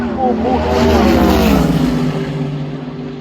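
A 1949 Chevrolet pickup and a 2014 Ford launch side by side at a drag race, with loud engine roar swelling and sweeping past, mixed with a commentator's voice.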